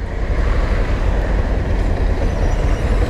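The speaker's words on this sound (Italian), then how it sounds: "Passa il treno anche." A train rumbles past close by in Ghana, a steady heavy low roar with rail noise that holds loud and even throughout, no voices.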